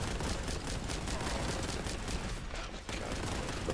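Rapid, dense gunfire from the boltgun in Warhammer 40,000: Boltgun, a continuous loud fusillade of overlapping shots with a brief dip near the end before the barrage resumes.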